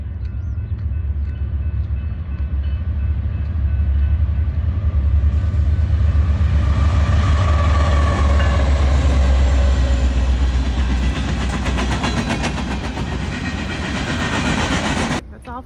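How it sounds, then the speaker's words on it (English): A loud train rumbles past close by, heavy low roar building and holding with rhythmic clatter of wheels on rails, then cutting off abruptly. "Train's about to come in."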